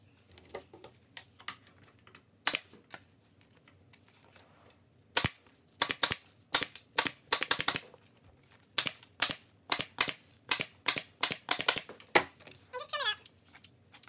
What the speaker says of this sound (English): So I'm going to go ahead and get this stapled on.